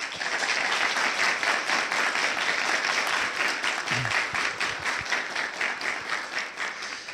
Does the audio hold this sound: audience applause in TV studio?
yes